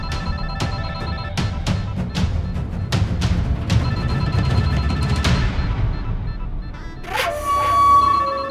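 A phone that a boss left behind rings loudly and repeatedly in a tonal electronic pattern of sharp, evenly spaced pulses, then ends with a brief higher electronic tone.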